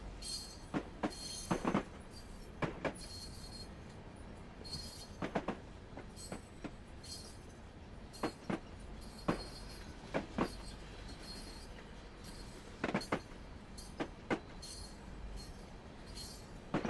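Railroad cars with a caboose roll slowly into a siding in a video game, giving off repeated clanks, clicks and wheel noises at an uneven rhythm over a low rumble, moderately loud with no talking.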